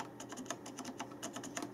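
Keystrokes on a Logitech G910 Orion Spark mechanical keyboard, a quick irregular run of soft clicks close up and fairly quiet, with no voices.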